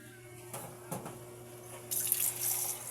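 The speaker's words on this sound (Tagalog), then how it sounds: "Ngayon, ang gagawin lalagyan siya ng tubig" Water runs from a faucet and splashes as it is added to a pan of sautéed vegetables, with a steady rushing wash and a brighter splash partway through, fairly quiet.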